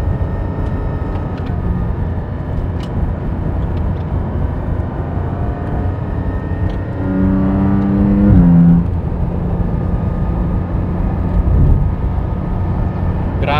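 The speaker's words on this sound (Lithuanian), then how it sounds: "visiškai kitaip važiuoja automobilis." A car drives on freshly resurfaced asphalt at the Nemuno žiedas race track, its engine humming steadily from inside, then rising in a brief revving shift before settling back to a smooth cruise.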